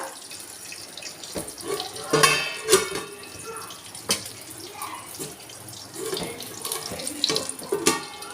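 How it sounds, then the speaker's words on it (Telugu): Drinking water runs and splashes steadily onto a lid set on a metal pan, with a few clanks of cookware breaking through the flow. "ఇప్పుడైతే మనం దీని మీద వాటర్ పోసుకోవాలండి"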